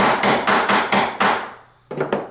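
T-nuts are hammered into a pre-drilled wooden leveling-system table top: a steady run of five or six sharp, loud metallic-wooden blows, a short pause, then two more quick strikes.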